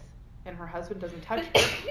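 A sharp sneeze bursts out near the end, loud and close, breaking into a woman's ongoing conversational speech.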